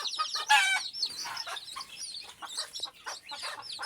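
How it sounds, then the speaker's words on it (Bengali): Chicken chicks peeping close by, a busy overlapping stream of high chirps with one louder burst early on, no talk. "দেখুন, এই জায়গাও কিন্তু আমার মুরগির বাচ্চা আছে।"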